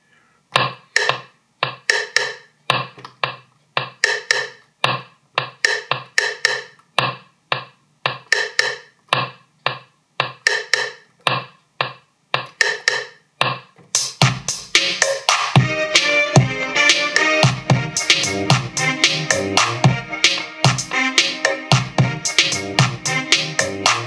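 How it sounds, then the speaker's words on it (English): A peck drum sample in an Afrobeat-style beat programmed on an MPC: sharp, evenly spaced woody percussive hits repeat in a steady pattern, then the fuller beat with other drums and instruments comes in loud under the pecks. "So another peck. I added another peck. Let's listen to the peck."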